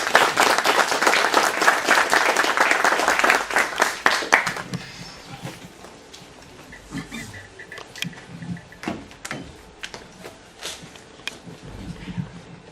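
An audience applauds to welcome archaeologist Fidel Fajardo Ríos before an evening talk: loud, dense clapping for about four seconds, then thinning to scattered claps and light room noise.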